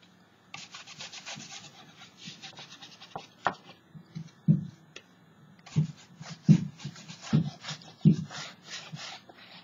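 Paint being rubbed off a painted craft piece by hand, a series of soft scuffing strokes that grow firmer and more rhythmic, with several distinct rubbing bursts close up and little else around.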